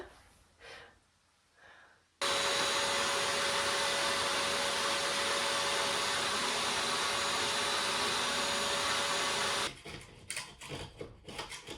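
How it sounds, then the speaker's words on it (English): A household vacuum cleaner sucks up insects in a bedroom. It switches on abruptly, holds a loud, steady whine with a faint constant tone for about seven seconds, then cuts off, leaving scattered soft handling noises. "First, I'm going to get the vacuum and vacuum up some of the insects."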